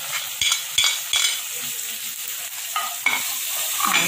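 Chopped ginger, turmeric, green chilies and curry leaves lightly frying in a pan give a steady close sizzle, broken by a few sharp spoon knocks and scrapes as they are stirred.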